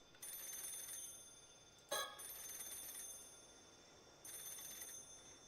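A telephone rings in the Paranormasight: The Mermaid's Curse video game, a bright electronic trill sounding in two long bursts with a short click between them, with no talking.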